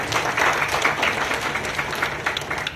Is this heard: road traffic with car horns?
no